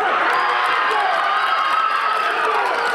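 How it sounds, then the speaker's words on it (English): A courtroom crowd erupts in screaming, shouting and cheering at a guilty verdict, a dense loud continuous roar of many excited voices with no pauses. "They all screamed and yelled and were excited and clapping"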